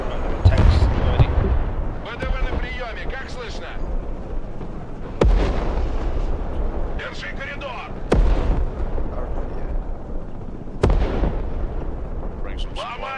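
Rocket and artillery explosions boom in the Broken Arrow war strategy game, four heavy blasts spaced a few seconds apart over constant battle rumble, while players talk over the action.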